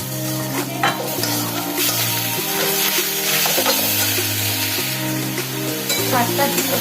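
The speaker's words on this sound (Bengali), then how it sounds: "এবারে শাকটা আমি দিয়ে দেবো।" Parboiled red amaranth greens go into a pan with fried prawns and green chili, sizzling loudly and continuously close by under brisk stirring.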